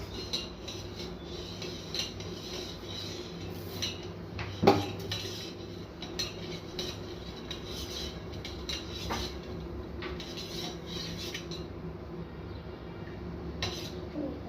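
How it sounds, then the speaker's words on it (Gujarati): A spoon stirs sugar into fennel sharbat in a metal vessel, giving faint, steady scraping clinks with one sharper knock near the middle, no voices. "ખાંડ નાખીને આપણે હલાવીએ."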